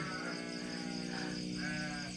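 Sheep in a pen let out a couple of wavering bleats in quick succession, moderately close, over a soft steady background hum with no talking.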